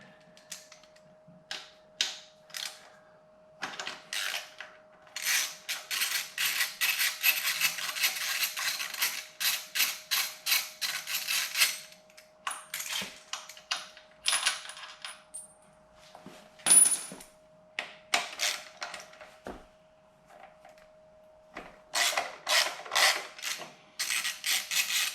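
Ratcheting and metallic clicks come in irregular bursts while crash bar bolts are removed from the right side of a 2020 Yamaha Tracer 900 GT motorcycle, up close with short pauses between runs of turning.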